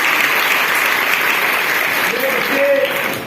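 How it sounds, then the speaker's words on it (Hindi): Loud, dense applause from a crowd of schoolgirls at an intermediate college, a continuous roar of clapping with a brief voice rising underneath near the end. "जोरदार तालियां।"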